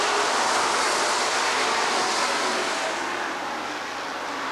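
Stock race cars roar at a short-track oval at Rockford Speedway as the field takes the green flag, a dense, loud wash of engines sustained throughout with no clear voice over it.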